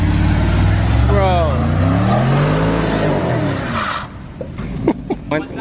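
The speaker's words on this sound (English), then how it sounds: "Try to do a burnout." A BMW 650i revving hard with traction control off during a burnout attempt, a loud rising and falling engine roar up close ending in brief squeals and clatter, with excited voices talking over it.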